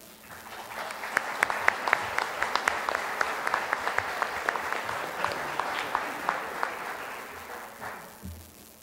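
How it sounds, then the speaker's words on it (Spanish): Applause from the audience at a university accreditation ceremony, a dense, steady clapping that swells and holds for several seconds with sharp individual claps standing out, then fades at the end. "Despedimos a la comisión con un fuerte aplauso"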